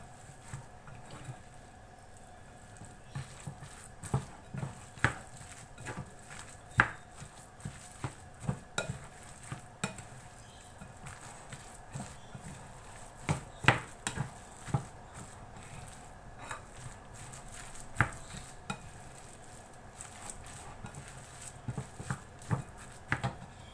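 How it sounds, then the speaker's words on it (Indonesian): Chicken ball dough mixed with hot water by stirring, giving soft wet scraping and sloshing with irregular clicks of the spoon against the bowl, close and moderately quiet, with no voice. "Ini saya tambahkan air panasnya ya teman-teman, sedikit demi sedikit. Ini aduk sampai merata."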